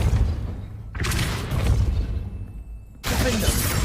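A Depulso spell strikes in Hogwarts Legacy, a sudden broadband impact bursting in near the one-second mark, then a second loud blast around three seconds, over a busy game soundscape.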